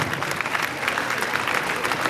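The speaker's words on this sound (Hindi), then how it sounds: "मैं चाहूँगा जोरदार तालियाँ भी उमाकांत सर के लिए भी होनी चाहिए" Audience applause at a children's science congress held at a school in Chamba, loud and steady clapping that fills the whole moment with no talk.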